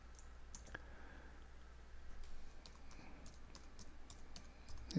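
A command typed on a computer keyboard, faint, rapid clicks of individual keystrokes in an irregular rhythm against a low, steady room hum.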